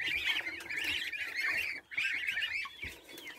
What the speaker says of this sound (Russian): Это большие серые гуси.